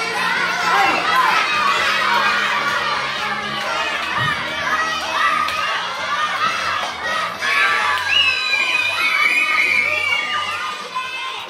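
A crowd of children cheers and shouts excitedly during a party game at an eighth birthday. The loud, continuous din of overlapping young voices fills the whole stretch, with shrieks rising near the end.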